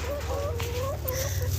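Chickens and roosters in an evening farm coop, one bird giving a short run of clucking calls up close over a low steady hum.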